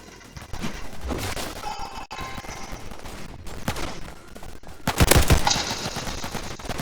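Rapid video game gunfire rattles in dense automatic bursts, loud and close, with a heavier volley of shots toward the end.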